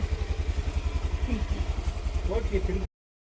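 A scooter engine runs close by with a steady, rhythmic low putter as it sets off, faint voices in the background, before the sound cuts off abruptly.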